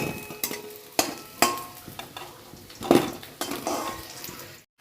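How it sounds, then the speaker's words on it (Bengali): Taro pieces frying in hot oil, a steady sizzle broken by several sharp clinks and scrapes of a utensil stirring against the pan, close up with no voices. "এবার এটা ভাজবো, লাল লাল করে কচুগুলো ভেজে নিয়েছি,"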